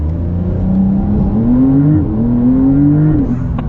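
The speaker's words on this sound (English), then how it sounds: "It kind of spun the rear tires a little bit there." A 2023 Porsche 911 GTS with a PDK gearbox accelerates hard, its rear tires briefly spinning; the loud, close engine note climbs steadily, dips at a shift, then rises again with no talk.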